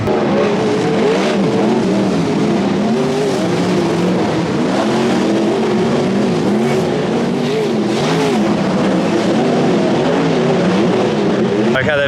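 Sprint cars accelerating off the green light at a slippery dirt speedway during the NSW Sprint Car Championship at Dubbo, a loud, continuous roar of several engines revving and rising in pitch, with crowd and voices faintly mixed in.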